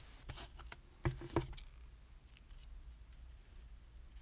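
A few short, crisp snips of scissors cutting crochet yarn, close by, then quiet rustling with soft handling noises.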